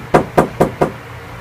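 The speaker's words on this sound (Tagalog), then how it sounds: "Oh, may kumakatok." A door is knocked on four times in quick, evenly spaced raps, loud and close, with no voices.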